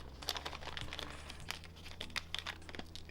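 Crinkly plastic bags of small plastic board-game crystal tokens being handled and torn open, a close, steady run of crackling and rustling with sharp tearing bursts and no talking.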